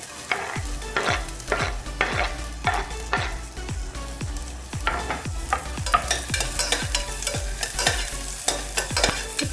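Ginger and onion frying in a pan for drumstick soup are stirred in a steady rhythm, each close scrape of the spoon landing over a continuous sizzle, with a low hum underneath and no talking.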